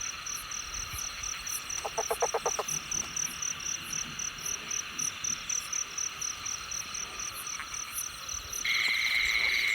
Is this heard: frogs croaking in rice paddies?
yes